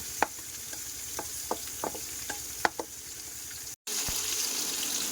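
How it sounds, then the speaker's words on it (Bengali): Food frying in a pan in a village home kitchen, a steady sizzle with scattered clinks and scrapes of a utensil being stirred and lifted, broken by a brief cut to silence near the end. "এগুলো সব ভাজা হয়ে গেছে, এবারে তুলে নিচ্ছি।"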